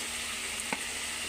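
Fish frying in a pan gives a short, steady, moderately loud sizzle with one brief soft knock partway through, and no voices.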